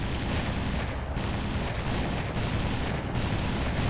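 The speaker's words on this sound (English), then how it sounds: "Just switch to the gunners so you can see the wing guns there. You can see them firing." Wing guns firing on an Italian plane in War Thunder, a dense, continuous roar of rapid cannon fire with no clear gaps, loud and close, without speech.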